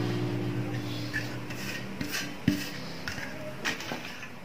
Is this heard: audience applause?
no